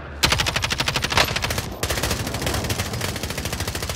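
Rapid automatic gunfire in Call of Duty Warzone, two close, loud bursts of evenly spaced shots with a brief gap between them.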